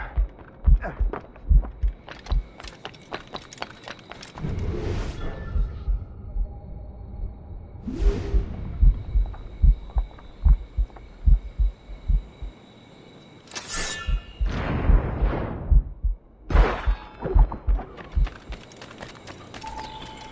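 Low, regular heartbeat thumps pulse through a poisoning scene in the video game Assassin's Creed Rogue, mixed with footsteps, whooshes and other game effects, with no talk over it.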